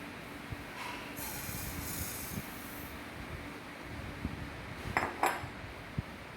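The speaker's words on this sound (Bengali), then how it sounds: "মুগের ডালটাকে আমি ভেজে নিচ্ছি" Moong dal dry-roasts in a pan for niramish khichuri, a steady grainy hiss under occasional scrapes and metallic clinks of a spatula against the pan, a little louder toward the end.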